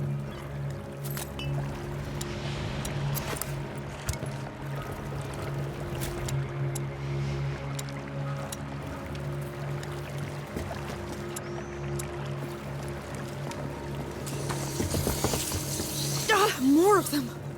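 A boat glides across water in A Plague Tale: Requiem, with a steady low rumble and soft lapping throughout, plus a scattering of faint game effects and a brief swell of louder noise near the end.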